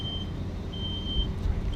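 A thin, high-pitched smoke alarm beeps in long intermittent tones over loud, steady low rumbling, during a fire sprinkler test.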